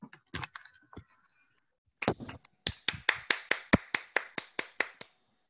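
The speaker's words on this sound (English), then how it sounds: "That's just applauding you, not applauding you off." Applause in an online meeting: a few scattered claps and taps, then a steady run of about a dozen sharp, evenly spaced claps from a single nearby participant, with brief pauses between bursts.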